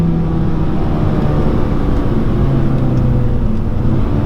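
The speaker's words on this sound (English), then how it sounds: "I can tell that it's a DCT for sure, especially in terms of how snappily it'll downshift" A 2019 Hyundai Elantra Sport with the 1.6-litre turbo four and seven-speed dual-clutch automatic drones steadily from the cabin, a low, even engine hum with little change in pitch and no talk.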